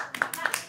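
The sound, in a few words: applause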